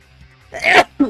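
A person gives one short, close sneeze, a sharp burst followed by a brief voiced catch of breath.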